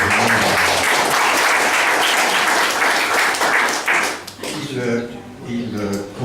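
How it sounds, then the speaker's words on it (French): Audience applause at a workplace quality-of-life conference, a full dense round of clapping for about four seconds that dies away as a voice begins speaking. "je crois qu'on peut l'applaudir"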